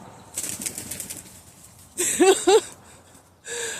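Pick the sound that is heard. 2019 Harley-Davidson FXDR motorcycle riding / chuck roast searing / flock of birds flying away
flock of birds flying away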